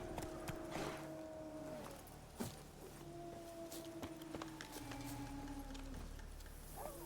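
Roach, a horse in The Witcher 3 fitted with a racing saddle, gallops in a steady clip-clop of hooves at moderate volume over a faint game ambience, with no talking.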